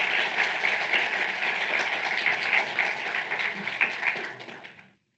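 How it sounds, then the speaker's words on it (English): Applause from a symposium audience, a dense steady patter of many hands clapping, moderately loud, holding evenly before cutting off abruptly near the end. "if we could just have one more round of applause for all of those people who make it happen"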